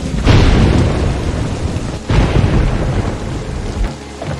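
Heavy night rain falls with loud rolling thunder; two big booming claps arrive about two seconds apart over a constant roar of downpour, close and powerful, with no talking.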